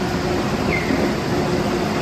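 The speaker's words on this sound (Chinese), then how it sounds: "轻轨来了。" A light rail train on the Ankeng line in New Taipei pulls into a station with a continuous low rumble and steady mechanical hum, loud and even, with no voices over it.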